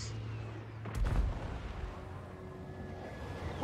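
Battle audio from the strategy game Total War: Warhammer 2 carries a deep booming gunshot or cannon blast over a steady rumbling ambience, with a faint hum running underneath.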